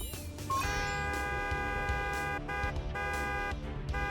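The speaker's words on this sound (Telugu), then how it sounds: "ఈ హార్న్ సౌండ్ వల్ల కూడా ఆ సూట్కి ఏ ప్రమాదం కలగలేదు" A horn sound effect in a kids' cartoon, a sustained bright tonal blast with rich harmonics that starts after a brief rising sweep and holds steadily for several seconds.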